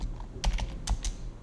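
Several crisp keystrokes on a computer keyboard as code is typed, falling in short clustered bursts with brief pauses, close and fairly quiet.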